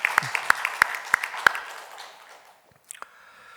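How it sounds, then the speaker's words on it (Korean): A church congregation at a Sunday worship service gives a thank-you round of applause after a hymn. A handful of distinct, evenly spaced claps ring out and then fade, leaving a quiet room with a couple of faint knocks at the end. "우리 감사의 격려의 박수를 한 번 더 보내주시길 바랍니다."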